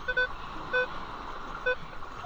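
A metal detector on a sandy, rocky beach emits short electronic beeps, three spaced tones over a low background hum, each brief and clear.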